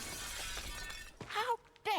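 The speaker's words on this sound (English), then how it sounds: "How dare you smashed my window?" A window is smashed with bolt cutters in the game Arkham Horror: Mother's Embrace, a bright crash of shattering glass with tinkling fragments fading out, followed by a voice speaking.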